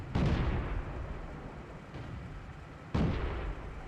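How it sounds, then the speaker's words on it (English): Heavy gunfire in a World War II tank video game as an armored tank is destroyed: two loud, booming blasts, the first at the start and the second near the end, each with a rumbling tail and no voices. "Enemy armor is destroyed."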